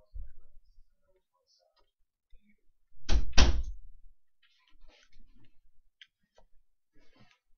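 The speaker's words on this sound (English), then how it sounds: "Close the door." A door closing indoors with a short thudding clunk and latch rattle, followed by faint clicks and small knocks in a quiet room.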